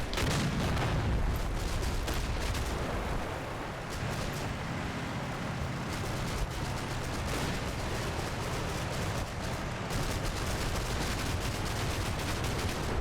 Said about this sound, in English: taking out the Germans that are lurking in that marsh, just through occasional rifle pot shots